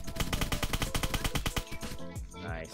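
Rapid automatic gunfire in the online survival game Apocalypse Rising 2, a loud fast burst of shots in steady rhythm for about two seconds, then a few heavier trailing reports with echo.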